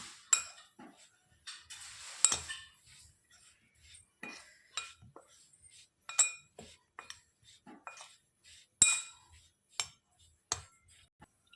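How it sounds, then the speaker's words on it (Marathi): Paneer pieces are tossed with salt, Kashmiri chilli powder and cornflour in a bowl, with sparse, quiet clinks and taps of a spoon against the dish at an irregular pace. "सोबत थोडंसं मीठ आणि 2 मोठे चमचे कॉर्नफ्लॉवर टाकूया. त्यांना आपण मिक्स करून घेऊ"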